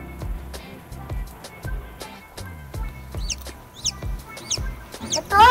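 Newly hatched chicks in a DIY egg incubator, several quick high peeps breaking over repeated soft thumps and knocks, close by and fairly quiet.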